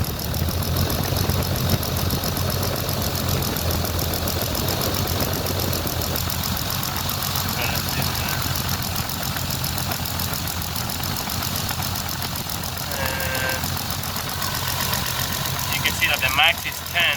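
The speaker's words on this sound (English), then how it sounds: "I got the car idling right now" A 2JZ-GTE engine fitted with an ATI balancer idles steadily with a low, even rumble and faint rattle, accompanied by a few brief electronic beeps near the end.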